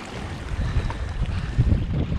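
Gusty wind buffets the microphone at a harbor in Tobermory, Canada, a low, uneven rush that surges in short bursts, with faint water movement beneath and no voices.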